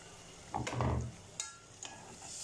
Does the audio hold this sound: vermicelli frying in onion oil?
yes